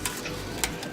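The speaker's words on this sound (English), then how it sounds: "I'm going to put this in our yeast starter. Stir it around a bit." Yeast starter for a breakfast stout being stirred, a few soft scraping and sloshing swirls in close, quiet succession with brief bright bursts, no voices.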